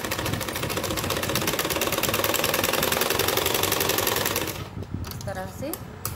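A sewing machine runs at a fast, steady mechanical rattle while stitching a blouse, loud and close for about four and a half seconds, then stops, leaving quiet room sound with a brief voice.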